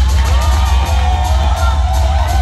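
An audience at a DJ event cheers and whoops with clapping mixed in, a loud continuous roar of voices over a deep rumbling low end.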